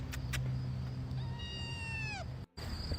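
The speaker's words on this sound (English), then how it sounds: "I hear another meow." Kitten hiding under a parked car, giving a few faint calls followed by one clear, drawn-out falling meow, heard outdoors with a brief dropout near the end.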